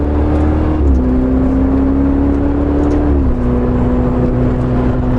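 A salvage-rebuilt Ferrari 488 Spider drives along with a loud, steady engine drone whose pitch steps down twice, as if shifting gears, with no talk over it.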